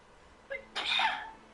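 A Final Fantasy XIV character lets out a single sneeze: a short, sharp intake followed by a loud, breathy burst that trails off, close and alone.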